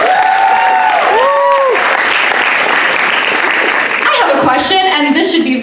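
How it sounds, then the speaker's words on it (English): An Indian student association's Jalsa 2022 crowd claps steadily in sustained applause, with voices talking over the start and a few cheers near the end. "let's give a round of applause to our amazing JALSA coordinator"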